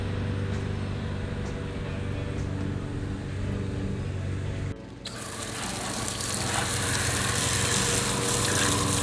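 Water rushes steadily while a car is being washed, a loud continuous spray over a low machine hum that cuts out briefly, then returns as a brighter, harsher gush.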